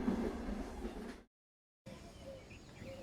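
A train rumbles along on the rails, steady and fairly loud, broken by a sudden short stretch of silence before the noise resumes.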